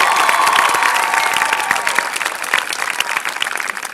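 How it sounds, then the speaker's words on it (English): A crowd applauding loudly and steadily at a high school graduation ceremony, with some cheering mixed into the clapping. "a huge round of applause for them"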